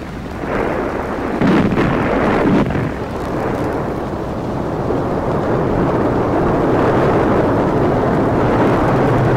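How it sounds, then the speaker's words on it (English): A thundering artillery salvo rolls across a city in a continuous, loud, deep rumble that fills the whole stretch and swells slightly in places, with no voices. "Just like in 1917, a thundering salvo rumbled across the city."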